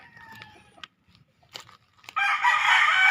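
A breeding rooster, father of the chicks, gives a few short calls, then a loud, harsh, sustained crow that fills the last second close by.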